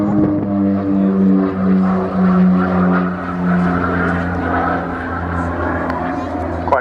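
An OV-10 Bronco twin-propeller aircraft flying a display at Culdrose, its steady droning engine hum with a wavering tone heard from a distance, partly under a commentator's voice.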